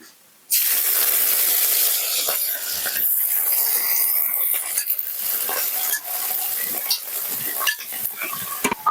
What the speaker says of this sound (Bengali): তেল গরম হয়ে গেছে, এবার আমি চিংড়ি মাছগুলো দিয়ে দেবো ভাজার জন্য